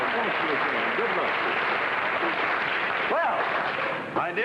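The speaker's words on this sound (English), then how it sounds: "it's some beautiful round of applause" A studio audience on a 1957 game show gives sustained applause, a dense, even wash of clapping, while a voice talks faintly over it.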